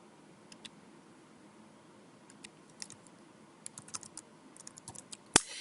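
Keys click on a computer keyboard as data is typed into a spreadsheet-style data set. The keystrokes come in quiet, irregular bursts, sparse at first and then denser, ending in one sharper tap.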